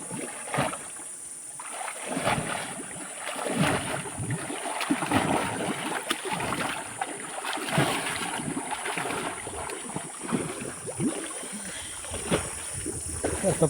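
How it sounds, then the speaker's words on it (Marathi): Hands repeatedly beat the water of a shallow pond to drive fish toward a kandal trap in traditional Konkan fishing. The slaps and splashes come close and in irregular rhythmic bursts. "तर बघा असं पाणी मारायचं आहे मित्रांनो आपल्याला सर्वीकडं"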